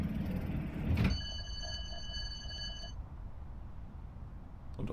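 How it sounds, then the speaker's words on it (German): In a Train Simulator game, the U-Bahn doors close with a hiss and thump, followed by a steady multi-tone warning beep for about two seconds, over a quiet cab rumble. "So, wir schließen die Türen."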